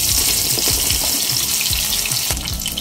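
Pieces of rui fish frying in hot mustard oil, giving a loud, steady crackling sizzle with repeated spattering pops throughout.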